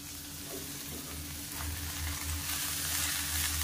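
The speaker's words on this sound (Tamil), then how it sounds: "இதையும் சேர்த்து நல்லா வதக்கிடுவோம்." Thuthuvalai leaves sautéing in a hot pan, a steady close sizzle and frying crackle with a low hum underneath, growing slightly louder midway.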